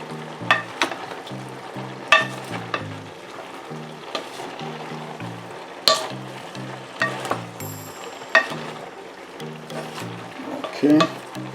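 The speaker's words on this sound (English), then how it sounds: "Stew, stirring the stew." A spoon stirs Jamaican vegetable stew in a pot, making scattered scrapes and clinks over steady background music, with a louder knock now and then.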